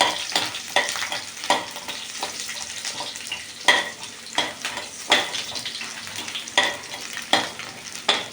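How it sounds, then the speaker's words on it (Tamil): Peeled garlic fries in oil with fenugreek and cumin for a Tamil kara kulambu, a steady sizzle punctuated by regular scraping stirs roughly every second, close up and without speech. "பூண்டு இந்த அளவு வதங்கவும்"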